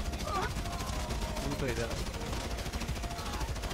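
Rapid bursts of gunfire from GTA 5 crackle in quick succession as an ongoing firefight, sitting under someone talking in Hindi throughout.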